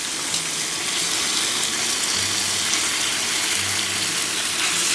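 Regular milk pours steadily into a pan of chilli crayfish pasta, a continuous close watery gush with a faint sizzle beneath, running alone for a few seconds.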